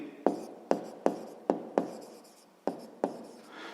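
A pen writes numbers by hand on paper in a series of about seven sharp, close strokes with short pauses between them.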